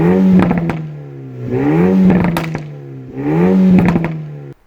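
Renault Megane RS TCe 300 hot hatch engine revving hard three times in a row, each loud rise falling back with rough crackling pops and bangs on the overrun, close and alone.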